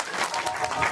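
A short burst of crowd clapping welcoming a guru onto the stage at a religious gathering, dense and lively applause close by.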